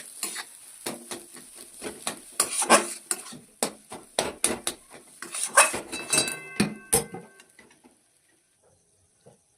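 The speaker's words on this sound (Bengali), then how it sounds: "এবার আমি এটা ভালো করে একটু নাড়াবো" A spoon scrapes and clinks against a pan while potato and egg mixture for egg cutlets is stirred, with irregular nearby taps over a faint sizzle before the clatter stops.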